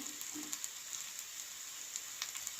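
Onion, green chili and curry leaves fry in a pan of hot oil, producing a faint, steady crackling sizzle with a few soft spatters and light stirring sounds.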